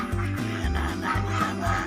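Ducks on a duck farm in Pakem, Yogyakarta, raised for a salted-egg business, quack loudly and close in a steady, overlapping chorus throughout.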